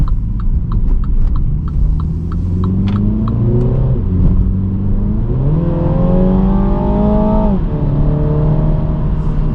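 A 2020 Mini Cooper S Clubman's four-cylinder engine accelerates at night in rising pulls, pitch climbing then dropping at gear changes, with a few rhythmic clicks early on, loud and near.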